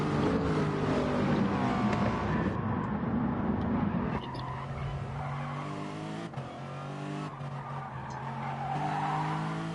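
Racing cars lap a circuit in a club-level Division 2 race, engines roaring loudly and continuously with tyre squeal, one car sweeping close past at the start before the pack noise settles into a steady, slightly more distant drone.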